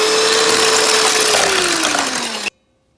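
Electric hand mixer whirring steadily as it beats eggs for a Guyanese fruit cake, the motor pitch sagging slightly under load before it cuts off abruptly, heard up close with no talking.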